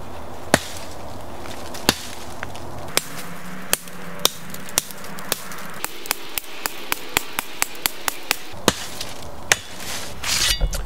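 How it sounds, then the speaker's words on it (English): Back edge of an executioner sword blade chopping into a tree outdoors, sharp woody thwacks striking singly at first, then speeding into a rapid run of blows, crisp and fairly close. "I'm gonna use that to chop down this tree back here"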